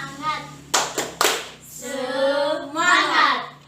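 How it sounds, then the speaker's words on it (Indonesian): Children in a classroom doing a rhythmic spirit clap, a few sharp, close hand claps in a short pattern, followed by young voices chanting together. "Tepuk semangat."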